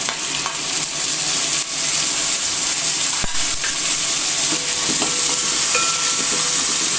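Chopped raw green banana and tomatoes sautéing in a pan for a Kerala-style curry, a loud continuous sizzle and hiss with occasional stirring scrapes, no talking.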